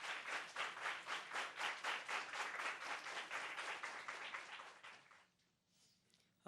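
Audience applause for a singer at a singing contest: dense, rhythmic clapping that holds steady for about five seconds, then thins out and fades to near quiet.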